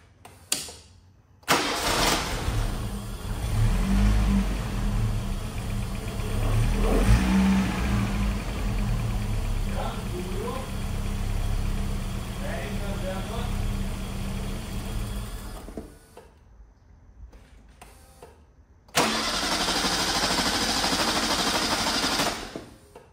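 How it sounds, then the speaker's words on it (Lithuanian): A Seat Malaga engine cranks and starts with a loud pop on ignition, then runs with a rough, uneven idle for several seconds before cutting out and restarting; a fuel fault. "Įjungus degimą, garsus pliaukštelėjimas."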